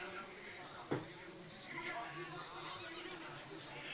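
A horse neighs in the distance amid outdoor crowd noise and people talking at a jousting championship at Spøttrup Castle.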